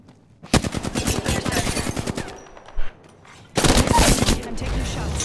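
Rapid automatic gunfire in the battle-royale shooter Apex Legends, loud bursts of rattling shots with a short lull, then another heavy burst, with faint voice chatter underneath.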